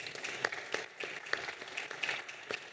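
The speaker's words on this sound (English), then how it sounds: "please, let's give them a round of applause" A small, faint smattering of applause for a panel at a marketplace theatre session, a few individual claps standing out over a thin, brief round.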